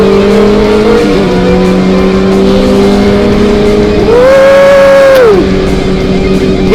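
Big motorcycles, including a Ducati, race against a bajaj auto rickshaw on the road. A loud, sustained engine whine holds steady, then revs up and drops back partway through.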